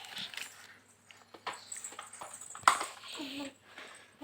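A dog gives a short, sharp sound near the middle of the clip, with family members talking and moving around it indoors.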